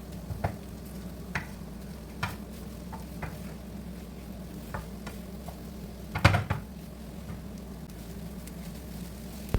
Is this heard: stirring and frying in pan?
yes